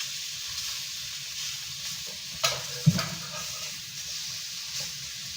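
Chicken sizzling on a hot grill just after being flipped, a steady hiss of frying with a couple of brief clanks or taps partway through, fairly quiet and without speech.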